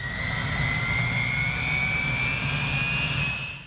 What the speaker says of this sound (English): Meet K-MAX, the unmanned helicopter that's changing the game for military logistics.